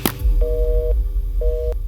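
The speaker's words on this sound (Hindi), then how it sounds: "फोन काट दिया।" Telephone busy tone after a call is hung up: two steady, loud beeps, each about half a second long, with a short pause between them and a faint low hum beneath.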